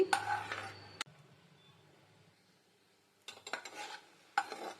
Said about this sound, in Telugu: జీడిపప్పుల్ని ఇలా దూరగా వేయించుకోవాలి